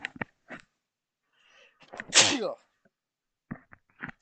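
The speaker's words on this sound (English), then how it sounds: "I need to sneeze." A close, forceful sneeze with a sharp breathy burst, preceded by a short inhale and followed by brief voice sounds.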